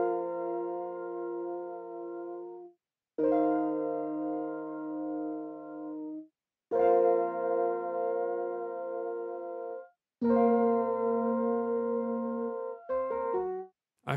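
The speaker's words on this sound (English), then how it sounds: "which are contact bank called Phonoloops cassette keys." Keys from the Phonoloops Cassette Keys Kontakt sample bank play four sustained, warm chords in turn, each held for a few seconds and separated by brief silences, with no other sounds.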